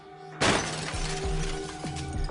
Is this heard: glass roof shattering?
yes